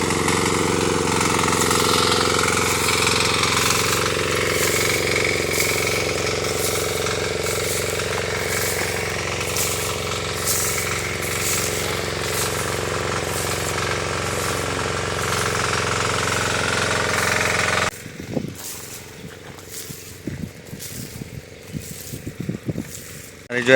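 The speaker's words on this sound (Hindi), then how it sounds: "फाइनली गाइस ट्रैक्टर स्टार्ट हो चुका है" A tractor engine runs on a farm field during sowing and ploughing, a loud rhythmic chugging with wind noise for most of the stretch, then dropping abruptly to a quieter, uneven throb near the end.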